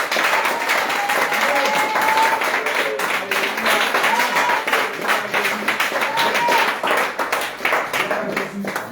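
A church congregation claps together in a steady, sustained rhythm, loud and close, filling the room with hand claps while voices sing or call out underneath.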